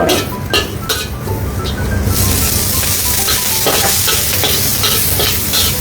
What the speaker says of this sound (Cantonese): 打爆香嘅料頭先。